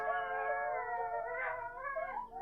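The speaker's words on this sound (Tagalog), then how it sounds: "tumatayo ang balahibo ko sa tuwing nakakarinig ako ng mga alulong ng aso" Several dogs howling together at night, long overlapping wavering howls that rise and fall continuously, moderately faint and somewhat distant, with no talking.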